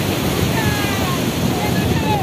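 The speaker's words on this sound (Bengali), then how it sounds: "ঢেউ আসবে এখন আমার কাছে" Sea surf washing onto a beach in steady wind, a continuous broadband roar of breaking water with no distinct individual wave crests, close and fairly loud.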